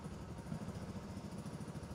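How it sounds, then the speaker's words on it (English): The engine of a 2021-or-later Polaris RZR 200 EFI side-by-side idles during an oil change, a faint, steady low rumble with an even pulsing throb throughout. "start the engine and allow it to idle for 30 seconds"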